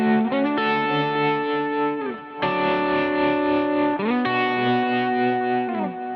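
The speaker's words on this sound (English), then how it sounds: "when I add these various types of modulation, it just gives me a different character to my sound" Electric guitar played through modulation effects, with tremolo among them, rings out in sustained chords that change every couple of seconds, loud and alone with a wavering, processed tone.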